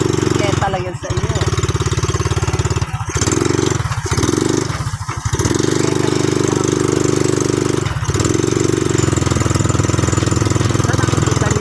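A nearby motorcycle engine runs in a loud, steady, throbbing idle with brief dips and surges, while people talk over it.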